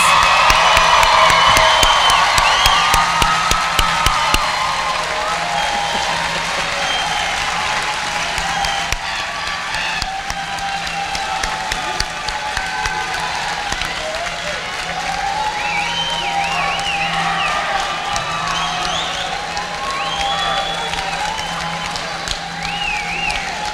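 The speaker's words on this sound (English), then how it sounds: "Let's give our graduates an applause." Sustained applause and cheering from the crowd at a high school graduation ceremony, steady clapping with whoops and shouts rising above it for the whole stretch, a voice faintly under the noise.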